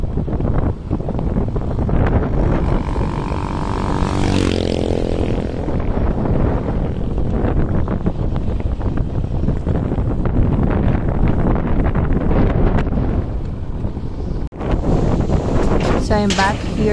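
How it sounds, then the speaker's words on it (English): Strong typhoon wind gusts across a banana farm in the Philippines, a constant loud roar buffeting the microphone throughout, with brief rustling and a voice heard at moments. "as you can see, the wind is so strong"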